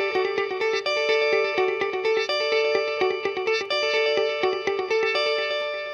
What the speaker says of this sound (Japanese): これにディレイを乗せると、